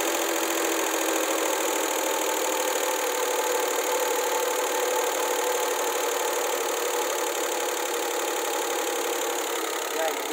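A Daihatsu CH engine idles steadily with its idle speed turned down, giving an even, continuous mechanical hum with a faint tick that holds at a constant level throughout.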